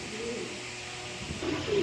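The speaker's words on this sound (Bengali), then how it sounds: "এখানে এক পেয়ার রেড চেকার কবুতর দিলাম" A pair of red checker pigeons coo softly nearby, with low murmuring calls over a quiet background hum.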